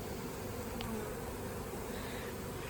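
Steady, dense buzzing of many honeybees close by at a hive entrance, a continuous drone with no voices.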